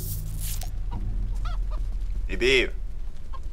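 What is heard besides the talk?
chicken clucking in the video game Mini Ninjas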